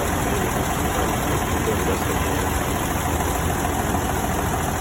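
A 1982 Toyota FJ40 Land Cruiser engine idles without a break, a low rumbling drone with a constant mechanical hum and no changes in pace.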